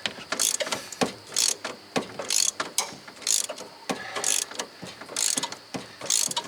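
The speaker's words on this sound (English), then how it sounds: "This wrench is working very nicely. Nice clean clicks, no skips." A ratchet wrench clicks in repeated bursts while backing out the intermediate steering shaft bolt on a 2007 Toyota Tacoma 4x4, about seven even, close-up runs of crisp clicks with short pauses between strokes.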